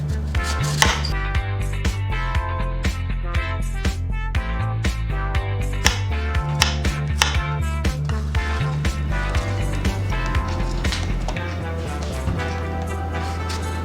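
A knife chops through a red apple on a board in a steady run of crisp, close cuts, with music playing underneath.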